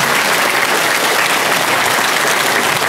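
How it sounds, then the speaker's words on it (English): Audience applause following a talk by a journalist on UFOs at a UK event, steady dense clapping throughout at a loud level, with no speech. "Round of applause for Robert Fleischer."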